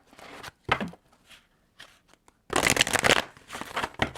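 Tarot cards shuffled by hand in several bursts, crisp riffling and flicking close up with brief pauses between, the loudest and longest shuffle near the end, no talk.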